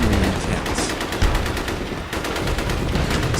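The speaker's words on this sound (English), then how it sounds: "Suddenly, amidst the gunfire, Winston fell to his knees and collapsed" Rapid bursts of gunfire crackle continuously, dense and sharp, like automatic weapons firing in a sustained exchange.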